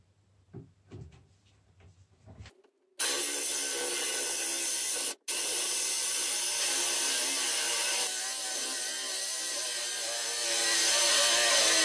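A loud, steady power drill bores into wood, running almost continuously for several seconds and briefly stopping once, after some quiet handling noises at the start.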